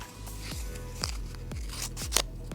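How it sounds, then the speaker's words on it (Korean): Scissors cutting through folded paper to make a pop-up heart craft: about five crisp, close snips in a steady rhythm, with light paper rustling between cuts. "반을 접어서 반을 또 잘라주세요."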